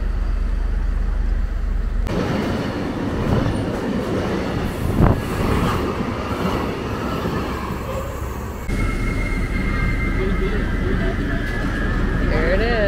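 A German regional train stands at Steinach station on the way to Würzburg, with a loud, close rumble of rolling cars and metallic wheel noise and squeal, brief clunks, and people talking nearby.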